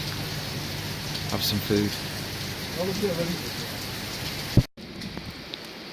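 Heavy rain pours down in a dense, steady hiss on Hadrian's Wall National Trail, with sheltering people talking briefly underneath and a sharp knock near the end.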